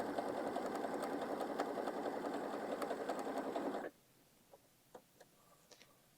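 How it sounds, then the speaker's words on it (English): A sewing machine stitches a quarter-inch seam on a quilt snowball block, whirring steadily at close range for about four seconds before stopping abruptly, followed by a few light clicks and handling taps. "And then you'll go to your sewing machine and sew 1/4 inch on each one."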